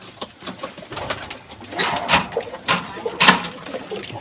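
A pigeon pair, a Golden female and a Prince Kamagar male, coos in a series of soft, rising calls with a few sharper flutters or taps, close by and without talk.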